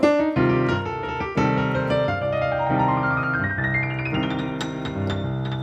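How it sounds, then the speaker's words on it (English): A piano plays a C Dorian scale, notes stepping steadily upward over sustained lower chords, clear and close with no talking. "that is called your C Dorian scale."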